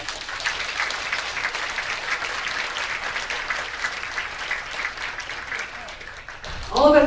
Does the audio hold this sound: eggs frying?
no